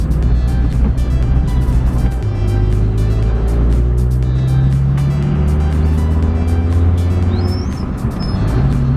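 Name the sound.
Mercedes G-Wagon driving loudly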